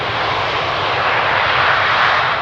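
A CRJ regional jet, which has no thrust reversers, comes in to land on runway 18R at Amsterdam Schiphol Airport. Its engines give a loud, steady, close roar throughout.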